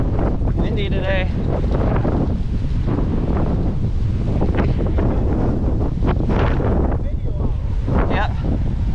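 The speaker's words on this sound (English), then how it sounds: "Windy today." Gusty wind blows across a microphone on the Great Western Trail, an outdoor bike path, a continuous loud rumble with people talking over it.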